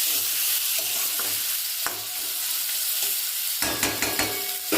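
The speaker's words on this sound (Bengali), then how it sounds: "এবার কষবো, ঢাকা দিয়ে দিয়ে এবার কষবো" Mutton is stir-fried for kosha in a pan, a loud continuous sizzle broken by repeated scraping strokes of the spatula, growing busier and more crackly toward the end, close up with no talk.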